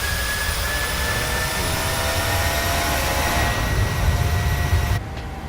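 Boeing 737-800 jet engines roaring during a go-around in Microsoft Flight Simulator 2020, a steady loud broadband rumble with a high whine that swells slightly before dropping off at the end, with no speech.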